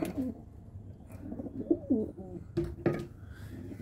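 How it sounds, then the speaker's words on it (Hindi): Pigeons coo softly nearby at a Delhi pigeon-keeping setup, several low throaty calls in irregular succession with faint rustling and background noise between them. "ये है जी कबूतर"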